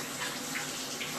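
Tap water runs in a steady, hissing stream over an aquarium filter impeller from a Pennplax Cascade 1500 canister filter being rinsed in a sink, close and continuous without talk.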